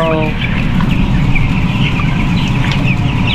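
Many chickens on a poultry farm in Botolan, Zambales cluck and chatter in a dense, continuous flock noise, close and loud, with a few higher calls rising above the din.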